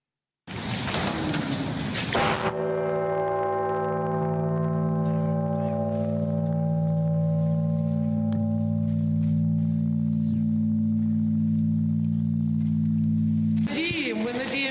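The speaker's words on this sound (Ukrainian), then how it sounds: "На биття у ці дзвони" A deep memorial bell resonates with a long sustained hum and slowly fading overtones, framed by brief bursts of noise at the start and end.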